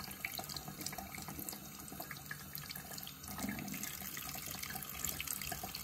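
A kitchen tap runs while fish is rinsed and cleaned for South African fish cakes, a steady hiss of flowing water with faint splashes, fairly quiet and continuous, with no talking.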